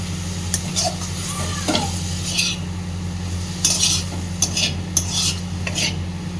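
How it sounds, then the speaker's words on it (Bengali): Beetroot frying in oil over a gas flame, a spoon scraping and stirring the pan with intermittent metallic clinks over a steady low burner hum and faint sizzle. "আস্তে আস্তে মুখটাকে পুরো ভেজে নিয়েছি"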